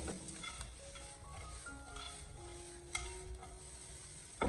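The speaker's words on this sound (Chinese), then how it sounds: "继续的开大火，快速的翻炒均匀" Soy sauce chow mein is tossed quickly in a wok over high heat, a faint sizzle with occasional scraping clicks from the stirring, mostly beneath soft background music.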